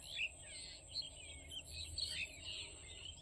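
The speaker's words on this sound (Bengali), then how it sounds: "পাখিদের কলরব শুনতে পাচ্ছ" Several birds chirp and twitter at a distance near a tea garden, light overlapping calls over a quiet outdoor background with a faint insect hum.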